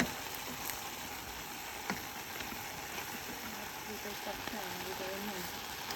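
Onion sizzling in a pan over a campsite stove in the mountains, a faint, steady crackle and hiss running throughout with a few small pops and no talk.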